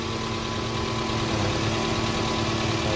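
A 2.4-litre car engine idles during a battery charging test, holding a steady, even mechanical hum with a low rumble. It runs close and unchanged for the whole stretch, with no talking.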